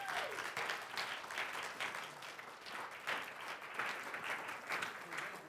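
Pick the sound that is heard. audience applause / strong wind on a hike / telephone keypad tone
audience applause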